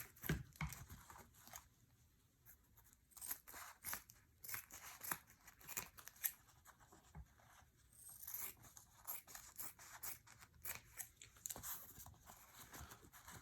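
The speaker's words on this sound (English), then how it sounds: "we're going to cut up the mask and see what's inside" Scissors snip and tear through the layers of a surgical mask in a quiet room, producing faint, irregular crinkly cuts and rustles up close.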